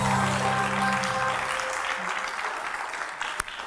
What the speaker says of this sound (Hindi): कंटिन्यू रखें आप ये ताली।